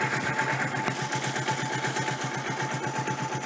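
A Zontes Monster motorcycle engine idles on a warm day, a steady close putter with an even rapid pulse and no voices over it.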